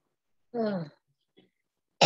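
A single short, rough cough from a person with an inflamed throat, fairly close, followed by quiet and the start of another sound at the very end.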